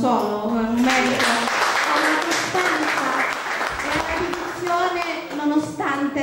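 Clapping from an audience honouring 25 years of the Festival del Peperoncino, running under voices and tonal sounds that carry through most of the clip.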